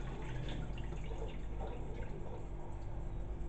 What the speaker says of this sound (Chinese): 然后就再倒水